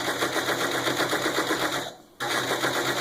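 Serger overlocking fabric as it feeds through, a dense, rapid mechanical chatter running steadily, dipping briefly near the end before resuming at full pace.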